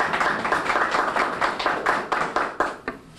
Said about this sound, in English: You all need to give him another round of applause for his hard work.